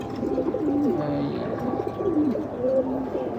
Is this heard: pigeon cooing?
yes